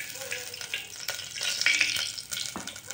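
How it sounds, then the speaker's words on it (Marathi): Desi ghee sizzles in a hot pot on a gas stove, a soft crackling fry with scattered pops and a few clinks, close but fairly quiet, with no talk. "गरम पातेल्यामध्ये मी थोडंसं देसी घी टाकणार आहे."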